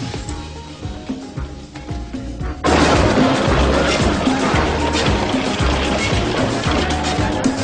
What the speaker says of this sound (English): There's nothing like a little fireworks.